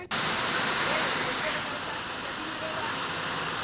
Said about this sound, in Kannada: ಮಳೆರಾಯ ಬಿಟ್ಟು ಬಿಡದೆ ಸುರಿತಾ ಇದ್ದಾನೆ ಉತ್ತರ ಕರ್ನಾಟಕದಾದ್ಯಂತ.